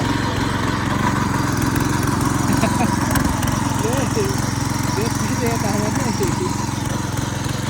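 A steady, rumbling tractor engine drones continuously at close range while ploughing a field, its low throb unchanging throughout.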